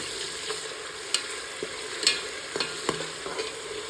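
Tomatoes fry and are stirred in a pan, with a soft steady sizzle broken by occasional light scrapes and clicks of the spoon.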